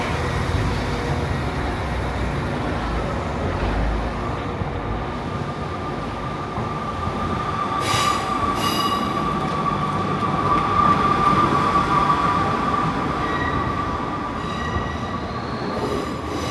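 A Class 150 train rumbles steadily nearby, with a thin wheel squeal rising in the middle and a few clanks, continuous and loud without speech.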